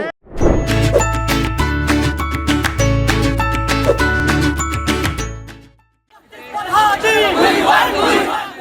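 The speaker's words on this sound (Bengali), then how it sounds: "ছাত্রদলের নেতাকর্মীরা বিক্ষোভ মিছিল করে ঢাকা বিশ্ববিদ্যালয়ের টিএসসি চত্বরে। মুখর হয় স্লোগানে স্লোগানে।" A protest march crowd chanting slogans at the Dhaka University TSC area, loud massed voices shouting in rhythm, a pause, then a rougher burst of crowd shouting.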